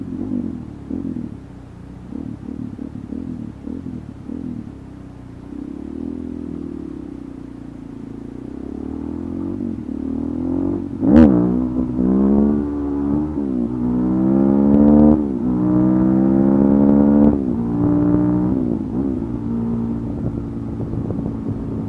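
A Suzuki DRZ 400 SM supermoto motorcycle idles with a lumpy thump, then revs up repeatedly in rising, loud bursts with a sharp crack in the middle, close by.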